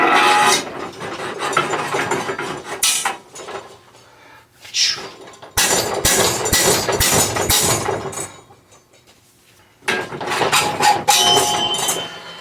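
Sharp metallic hammer blows ring out in quick bursts, separated by brief pauses, close by and loud, with no talking, as a headset cup is hammered out of a bicycle frame's head tube.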